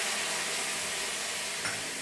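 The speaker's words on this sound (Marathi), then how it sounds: "आता हे पाणी ओतते मी" Water goes into a hot pan for onion pitla made with lengthwise-sliced onions, giving a steady, loud, even hiss of sizzling that runs unbroken throughout, with no voices.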